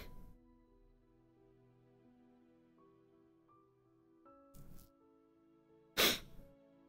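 A single sharp sneeze bursts out near the end, preceded by a softer one, over a steady background of sustained musical tones in a game setting.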